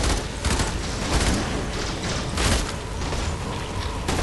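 Brakk shotgun blasts in Warframe come in a dense, loud volley of booming shots that overlap across the whole clip, with mechanical clatter between the heavy thumps.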